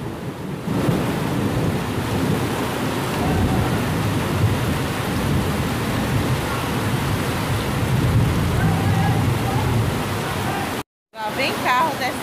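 Heavy rain pours in a dense, loud roar during a storm that floods streets in Ubaíra, with low thunder-like rumbling underneath, and the sound breaks off briefly near the end.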